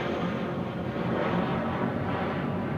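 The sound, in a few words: Lufthansa airplane going around at Barcelona El Prat airport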